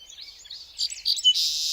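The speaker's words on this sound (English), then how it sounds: "The answer is a song sparrow." A song sparrow sings a short, high series of chirps and trills, faint at first and growing brighter and buzzier toward the end, heard alone.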